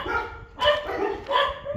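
Neighbourhood dogs barking at dawn in Beau Bassin, Mauritius: two or three loud, close barks in quick succession over a background of outdoor noise.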